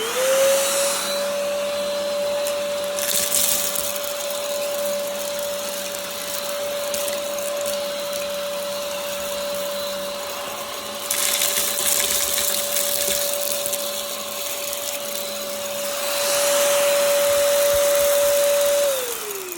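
A Vactidy cordless self-standing stick vacuum runs with a steady high whine for about twenty seconds, picking up coffee beans from carpet and hard floor, with brief surges of rattling suction as beans are drawn in.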